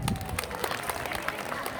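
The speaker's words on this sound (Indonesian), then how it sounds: "Tepuk tangan dulu dong untuk orang bongkar." A school audience at MAN 1 Merangin applauds with steady, dense clapping from many hands, fairly loud, with murmuring voices beneath.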